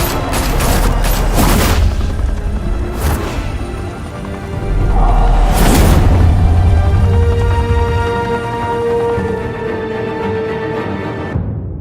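Gunfire in a Batman video game, with bursts of rapid shots and heavy booms up front, then a lull filled with lingering echoes and rumbling, loud and close.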